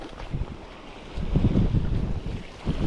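Gusty wind buffets the microphone over the low wash of sea waves on the Norwegian coast, rising and falling in uneven surges.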